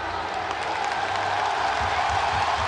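Hockey crowd in Pittsburgh roaring and applauding through an NHL fight between Ben Ondrus and Jarkko Ruutu, a steady dense wash of cheering and clapping at full volume with no gaps.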